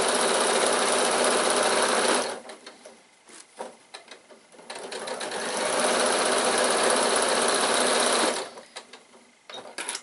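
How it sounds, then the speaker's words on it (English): A sewing machine stitches bag handle straps in two sustained runs, a steady buzzing hum that cuts off for a couple of seconds of quiet handling noises between them and again near the end. "So I'll just carry on sewing this"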